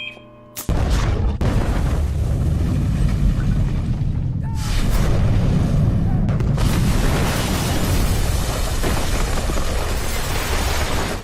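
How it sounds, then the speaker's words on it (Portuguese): A massive explosion destroying a TV station in a Rampage film: a sudden deafening boom followed by a sustained roaring rumble of blast and debris that stays loud for many seconds, with a brief dip before the roar surges again. "Bill arma um explosivo que estava com ele esse tempo todo e foge por um duto de ar fora da vista de todos, causando a destruição completa da emissora"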